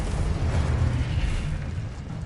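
A Confringo spell explodes in a Harry Potter-style video game duel, giving a loud, sustained rumbling blast with heavy low boom and crackle that fills the whole moment without letting up.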